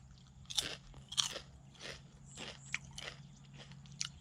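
Crisp bites and crunches into a Burmese potato snack sheet, about eight sharp crackly snaps spaced irregularly, close and fairly quiet.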